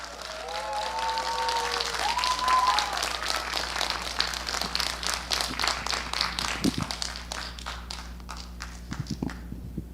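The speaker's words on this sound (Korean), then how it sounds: "다시 한번 따뜻한 박수 부탁드립니다" Audience at a joint candidate speech meeting for a redevelopment committee election applauds, dense clapping at first that thins into scattered individual claps, with a brief voice murmur early on and low room hum throughout.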